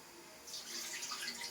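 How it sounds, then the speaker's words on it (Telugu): Rice is rinsed under running water in a home kitchen, a soft steady hiss of flowing water and gentle splashing that starts after a brief quiet moment and continues close by. "బియ్యం అయితే 2 సార్లే కడుక్కోవాలి."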